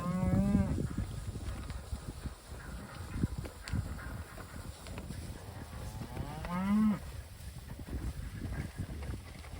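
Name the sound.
heifers (cattle) mooing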